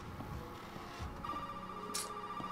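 A phone ringing inside the Resident Evil 7 horror game, a thin repeating ring heard over a low ambient rumble, moderately quiet and steady.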